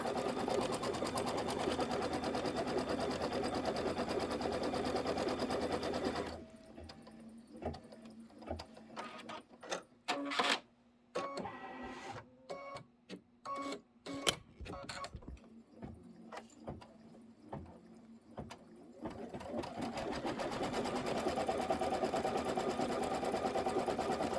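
An embroidery machine stitching a quilt filler block runs in rapid mechanical bursts, steady whirring punctuated by short stops and clicks, loud and close, with steadier motor noise at the start and end.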